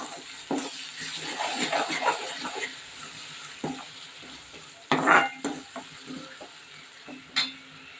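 Masala with crushed tomato is stirred and sautéed in a pan for a quick chicken gravy, giving steady close scraping and stirring over a soft sizzle, with louder utensil clatters now and then.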